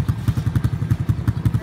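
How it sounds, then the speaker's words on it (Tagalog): A motorcycle idles close by with a rapid, even thumping pulse, about to carry riders across a flooded road at the San Nicolas Baywalk. "Sasakay ang iyong motor"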